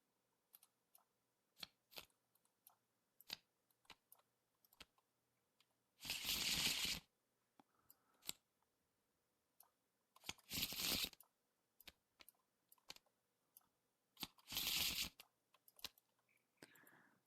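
Arkham Horror playing cards shuffled in three separate riffle bursts, each lasting about a second, with scattered light clicks and taps of cards being handled in between and no talk.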